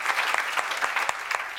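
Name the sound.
audience applause for the candidates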